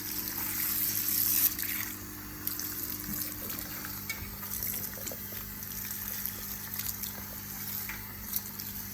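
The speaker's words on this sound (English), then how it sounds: "It's time to rinse the conditioner." Water runs and trickles softly while conditioner is rinsed out of hair, a faint, steady splashing with occasional small drips and no talk.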